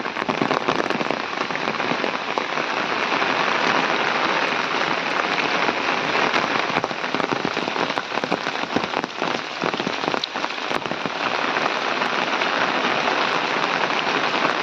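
Heavy monsoon rain in the Konkan pours steadily and densely over houses for the whole stretch, a loud, constant hiss with scattered sharper patters on a surface.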